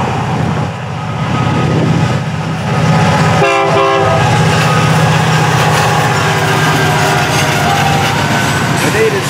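A Florida East Coast Railway train rumbles steadily past at close range, with a brief blast of a locomotive horn partway through over the continuous heavy roar of the cars.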